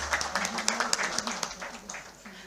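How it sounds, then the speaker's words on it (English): Audience applause at the inaugural session of a formal event, with scattered, uneven claps that are moderately close and fairly sparse. A faint voice or low murmur runs underneath. "I request everyone to give a round of applause to him."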